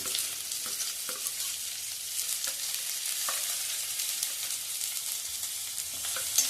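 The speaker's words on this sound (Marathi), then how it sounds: "आता ह्यामध्ये मी घालते अगदी बारीक चिरून ढोबळी मिरची" Finely chopped capsicum sizzles steadily in a pan over medium flame while being stirred continuously, a close, even frying hiss with faint scraping of the spoon, no talking.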